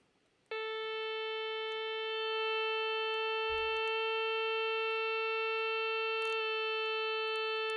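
A steady pure reference tone near concert A, pitched at 440 hertz and sliding up to 445, used to compare orchestral tuning standards; it sounds alone, loud and sustained, with a brief low thump partway through.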